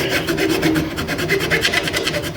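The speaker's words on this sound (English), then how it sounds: "Now I'll take my trusty file and give it a few little whacks with that" A metal file rasps across the wooden neck heel of a 1973 Martin D28 guitar in quick, even back-and-forth strokes, close and continuous for a couple of seconds.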